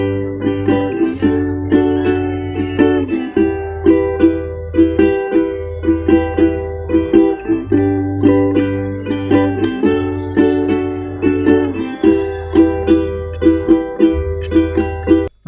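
Ukulele strumming the chords of a song at a slightly faster tempo, with a bright, even strum and a deeper part repeating underneath, played close and with no talking.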